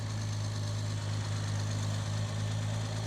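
A 1964 Jaguar E-Type convertible with a 3.8 litre engine idles steadily while it warms up, a close, even and continuous hum with no talk over it.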